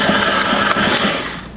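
A stand mixer with a paddle attachment churns cream cheese for a cheesecake filling, a close, steady mechanical whirring and gear-like rattle that runs continuously before tapering off at the end, with no talking.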